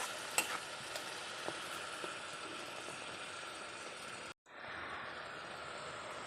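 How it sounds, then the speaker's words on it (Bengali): Onions being stirred into tomato paste in a frying pan, a continuous sizzle with scraping and clinking of a spoon against the pan. A brief break in the sound comes near the end, then the sizzle resumes. "এই পেস্টের সাথে পেঁয়াজটাকে এখন আমি মিশিয়ে নেব।"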